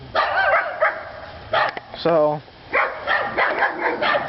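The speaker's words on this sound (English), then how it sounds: "all the dogs in the world are barking" Dogs bark and yip in short bursts nearby, one giving a drawn-out whining bark, while a person talks over them.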